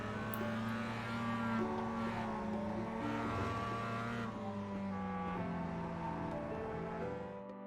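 Mazda MX-5 race car on the Okayama short circuit trail braking into a turn: a steady engine drone heard from inside the car, with the pitch sliding gradually down as the car slows into the corner, and no talk.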